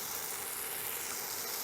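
Tomatoes sizzling on a griddle pan, a faint, steady, even hiss with no talking.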